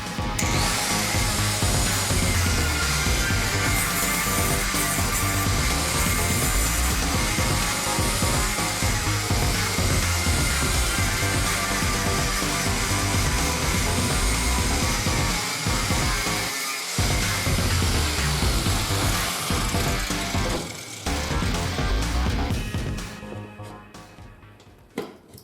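Power tool cutting off an old motorcycle tire, a loud continuous whining, grinding drone held for over twenty seconds with brief dips before winding down at the end, no talk.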